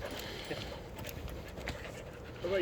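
A dog pants steadily at a dog park, quick soft breaths running through the whole stretch, close by, with background chatter from people around it.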